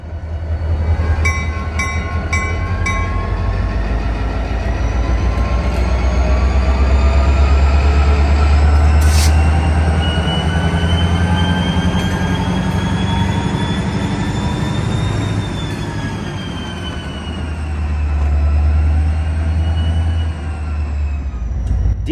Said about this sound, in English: The roar of an EMD locomotive hard at work.